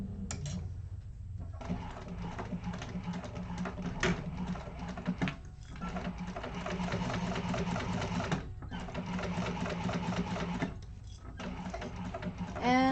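A sewing machine stitches an organizer bag in rapid, even bursts separated by short pauses, close and clear, with faint incidental handling sounds between the runs.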